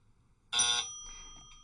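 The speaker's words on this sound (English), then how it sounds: "I believe the buzzer went off before you buzzed in" A single loud electronic quiz buzzer at an academic league match, a bright, tonal buzz lasting about a quarter second, then a fainter sustained hum lingering behind it.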